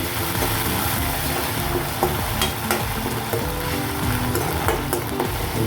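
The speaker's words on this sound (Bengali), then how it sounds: "তো মশলা অ্যাড করতে প্রথমেই আমি এর ভিতরে দিয়ে দিচ্ছি আদা রসুন বাটা।" Ginger-garlic paste with chilies sizzling and being stirred in a pan for a curry with egg, lentils and potato, a steady loud fry with scraping stirs and occasional clinks, no talking.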